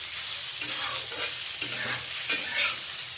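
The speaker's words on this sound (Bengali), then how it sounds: "সবগুলোকে প্রথমে পেঁয়াজটাকে ভালো করে ভেজে নিচ্ছি" Chopped onion fries in a pan alongside capsicum and tomato, a close steady sizzle broken by repeated scraping stir strokes and a few sharper clinks of the spatula against the pan.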